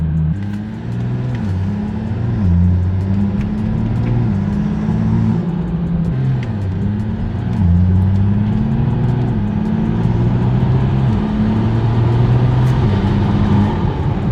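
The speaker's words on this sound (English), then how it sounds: "it definitely shifts a lot faster. It like actually grabs the gears back to back." Car fitted with a custom-tuned built transmission in sport mode, its engine revving and dropping as it shifts gears quickly back to back, a steady loud interior drone with repeated rising pitch sweeps and no talk.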